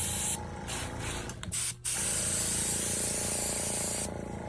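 An airbrush sprays paint for a car paint chip repair in a steady close hiss, briefly interrupted once by a short pause, then resuming continuously with no talking.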